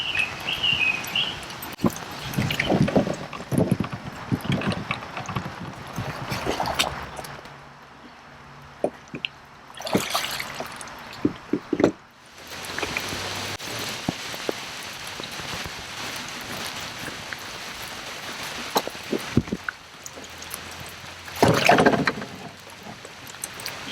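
Kayaks are paddled across a pond on a summer outing, with splashing strokes and dripping water coming in uneven bursts, fairly close, with no talking.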